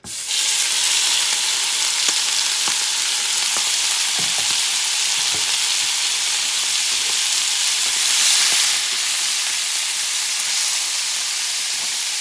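Duck giblets fry in hot rendered fat in a pan, a loud, steady sizzle and hiss with occasional small pops and stirring clicks throughout.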